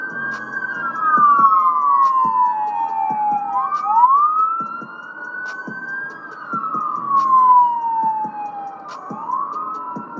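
Emergency vehicle sirens wail loudly as they pass by on a road in York County, Pennsylvania, the rising and falling tones sweeping up and down over a steady engine rumble, with a brief electronic yelp in between.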